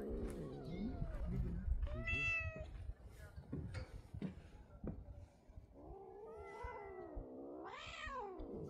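Hungry cats on a mountain trail near Dobongsa on Bukhansan, Seoul, meow repeatedly in drawn-out, wavering cries. A person talks and calls to them in between.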